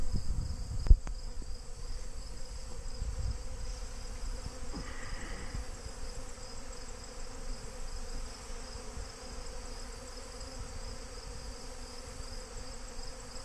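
Honey bees buzz in a dense, steady drone around a beehive under attack by robber bees, a continuous insect hum with a sharp click early on and no talking.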